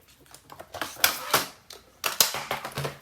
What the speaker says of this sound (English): So we'll just trim that through with our 12-inch trimmer.